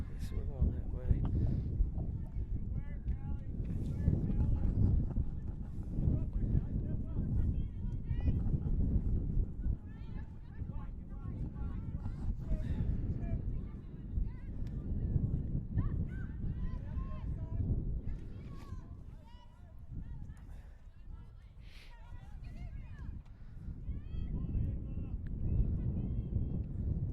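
Strong, cold wind buffets the microphone outdoors in Cincinnati, a continuous low, gusting roar that swells and eases throughout, with voices partly buried beneath it.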